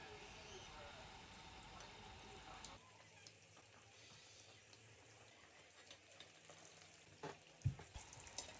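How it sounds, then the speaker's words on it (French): Meat pastels frying in hot oil in a pan, a soft, steady sizzle with occasional light pops and stirring clinks. "je vais rajouter les pastels à l'intérieur de l'huile"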